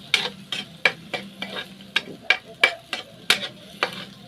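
Cabbage with eggs and onion leaves cooking in a pan, a utensil scraping and tapping against the pan in a steady series of sharp strokes over a low sizzle; close and moderately loud, no talking.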